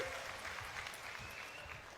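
A crowd at a political rally in Chhattisgarh applauds steadily. The clapping is a dense, continuous wash of moderate loudness with no voices on top.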